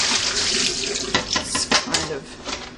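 Water from the drip tray of a Philips Saeco Intelia coffee machine pours and splashes into a sink, a loud continuous gush with sharper splatters toward the end.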